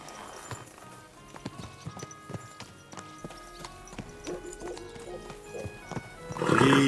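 Horse galloping in the video game Kingdom Come Deliverance 2, a run of rhythmic hoof clip-clops on the ground with a snort or whinny near the end, fairly close and with no talk.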